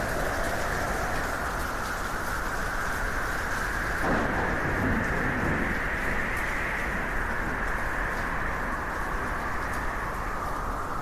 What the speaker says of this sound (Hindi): कड़कती बिजली की आवाज